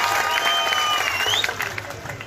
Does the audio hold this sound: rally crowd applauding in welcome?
yes